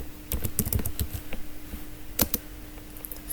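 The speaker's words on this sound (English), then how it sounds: "Okay, I have to retype" Fingers tap on a computer keyboard nearby, bursts of quick sharp clicks with short pauses between them, then a couple of louder strikes and a few trailing taps.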